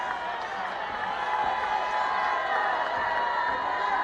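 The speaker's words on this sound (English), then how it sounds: "The crowd is going crazy right now." A football crowd in the stands roars with a dense, sustained cheer, a continuous wash of voices and whoops heard from a distance at steady loudness.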